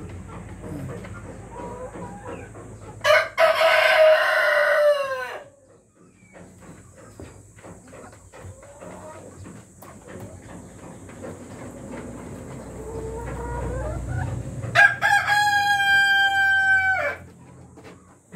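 Rhode Island Red breeder chickens in a laying coop, with two loud, drawn-out rooster crows near the start and end and soft clucking and shuffling in between, over a steady low background hum.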